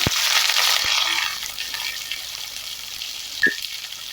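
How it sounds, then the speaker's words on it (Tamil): Sliced onions dropped into hot oil with spluttered mustard and fennel seeds for semiya kichadi, a loud hissing sizzle that eases into a softer fry, with a couple of sharp clicks and scrapes from stirring. "இப்போ இது கூட 2 பெரிய வெங்காயத்தை நான் கட் பண்ணி வச்சிருக்கேன், சேர்த்துக்கலாம்"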